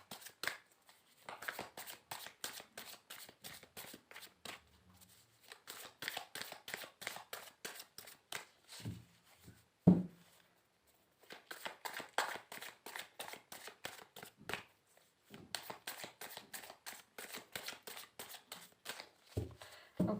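Playing cards riffle-shuffled close up in repeated bursts of rapid flicking, broken by short pauses and soft taps between shuffles.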